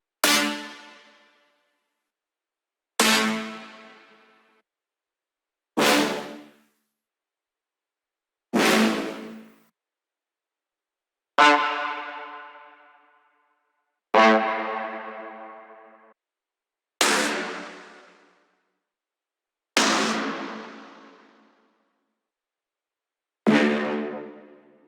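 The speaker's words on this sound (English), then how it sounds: "So the next thing is this stab, which is like 4 layers of stabs together." Layered synth stab for a pop song built in FL Studio, made of four stacked stab sounds, playing as nine bright, punchy hits spaced a few seconds apart, each with a decaying tail into silence, with no voices.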